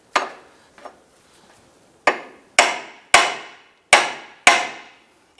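Sharp metallic hammer whacks against the steering knuckle of a 2005-2009 Subaru Outback to knock the lower control arm ball joint loose: two lighter taps, then five heavy ringing blows about half a second apart, loud and close.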